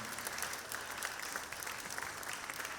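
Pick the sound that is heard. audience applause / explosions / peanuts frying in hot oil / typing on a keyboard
audience applause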